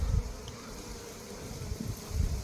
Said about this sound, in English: Hey up, bee come out with pollen.